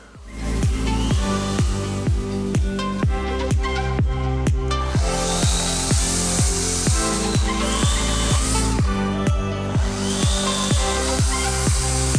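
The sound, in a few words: electric saw cutting an apple tree, powered by Hyundai Ioniq 5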